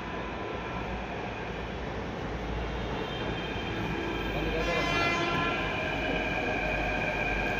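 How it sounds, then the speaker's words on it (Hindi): A metro train pulls into a station, its steady rolling rumble and wheel noise building gradually at moderate distance, with faint people talking in the background. "ये देख लो इधर वाली ट्रेन भी आ गई"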